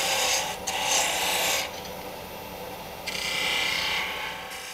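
A wooden string top being finished and parted off on a lathe, heard as a continuous close, loud scraping rasp of the tool against the spinning wood, shifting in tone as the cut changes.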